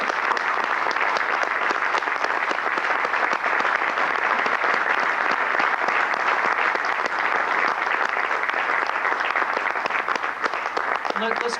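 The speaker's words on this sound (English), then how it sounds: "Let's get a round of applause." Audience applause greeting a drumline at a percussion convention, a dense, steady wash of clapping that holds at an even level throughout, with no breaks.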